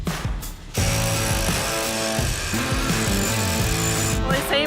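A hand ratchet clicks rapidly and loudly as it undoes the tow ball on an off-road buggy, the pawl chattering in quick steady runs with brief pauses between strokes.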